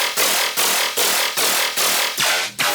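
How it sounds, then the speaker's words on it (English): A gnarly, distorted synth bass loop for dubstep repeats in loud, gritty pulses about every half second, with a wobbling, pitch-bending growl toward the end. "So here I got this little bass loop."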